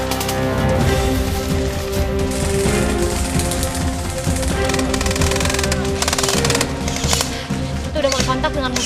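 Airsoft guns fire in an outdoor skirmish in Medan, rapid rattling bursts of clicking shots in uneven clusters, close and loud, with voices speaking underneath.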